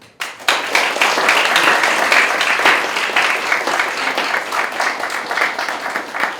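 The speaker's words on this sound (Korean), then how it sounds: "큰 박수로 강사님 영접해 주십시오" Loud, sustained applause from a large high school audience, dense clapping that continues evenly for several seconds.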